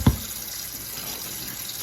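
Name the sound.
water running into a bowl to soak vegetables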